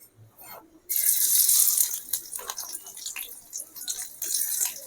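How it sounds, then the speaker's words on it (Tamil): Onions frying in hot oil for a dried anchovy (nethili karuvadu) powder, a dense, loud hiss of sizzling that bursts in suddenly after a quiet start and holds steadily with crackling fluctuations, close by. "இந்த எண்ணெய் வெங்காயத்தை நம்ம பொறிச்சு எடுக்கலாம் எண்ணெய் சூடாகட்டும் நம்ம வெங்காயம் பொறிக்கணும்"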